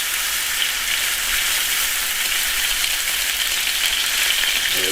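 Pork loins searing in a hot pan, giving a steady, loud, dense sizzle that holds evenly from start to finish with no talking.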